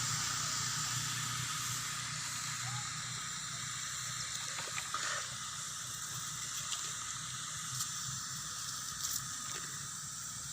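Water splashed over hot, freshly burnt scrap copper gives a steady broadband hiss and sizzle that runs unbroken throughout, with a low rumble underneath and a few faint clicks.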